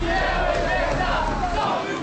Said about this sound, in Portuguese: Uma multidão de corintianos se reuniu na sede da torcida organizada